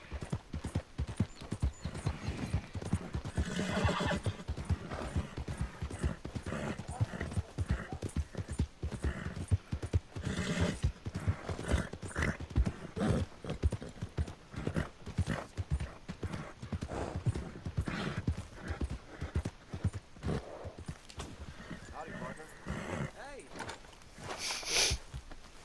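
Horse hooves clip-clopping steadily in the video game Red Dead Redemption 2, a rhythmic walking gait close up and continuous throughout, with occasional louder bursts and someone talking over it.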